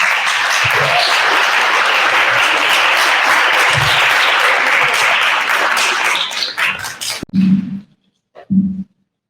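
An awards-ceremony audience gives loud sustained applause to welcome a speaker to the stage, dense clapping for several seconds that thins into a few scattered claps and a dog-like bark at the end.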